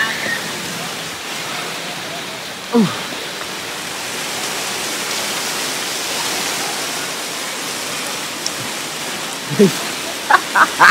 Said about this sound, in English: It was a beautiful waterfall.